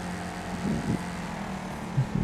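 A racing car engine in the demolition racing game Wreckfest drones steadily and loudly throughout, a constant buzzing hum with brief rough surges and thumps layered over it, and no voices.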